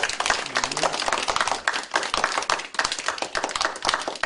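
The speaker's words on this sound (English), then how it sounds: "let's give her dad a round of applause" Close, dense applause with hands clapping in quick irregular bursts as a crowd welcomes home a soldier dad who surprised his daughter on her birthday, steady and loud throughout.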